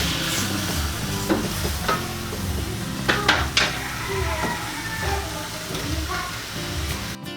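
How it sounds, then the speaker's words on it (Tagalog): A spoon stirs soy sauce and brown sugar into braised pork humba in a pot, with soft sizzling and a few sharp clinks of utensil against metal over a steady cooking hiss. "Haluin lang po muna natin para matunaw yung asukal."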